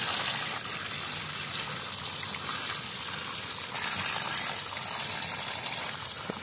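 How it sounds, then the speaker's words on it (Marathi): Tap water runs steadily in a continuous rushing gush while muddy shoes are washed outdoors at a farm home, with no talking. "सो आपले बुटं जरा धुवून घेऊया, कारण चिखल गेला आहे संपूर्ण"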